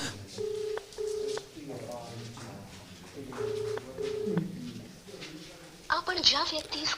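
An unanswered phone call rings out in repeated short electronic tones over background chatter and street noise, followed by a brief burst of louder sound at the end.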